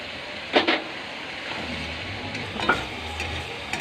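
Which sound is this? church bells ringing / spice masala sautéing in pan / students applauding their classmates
spice masala sautéing in pan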